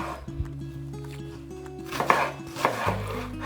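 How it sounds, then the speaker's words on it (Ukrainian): Knife chopping vegetables into cubes on a board, a series of sharp irregular taps over a low steady background hum, fairly close. "Нарізаємо їх до вільної форми. Я нарізаю кубиками."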